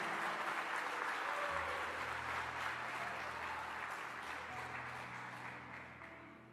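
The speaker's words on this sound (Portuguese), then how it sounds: "Pode aplaudir o Senhor." A church congregation applauds in a steady, dense wash of clapping that holds evenly throughout and tapers slightly at the end, with no voices rising above it.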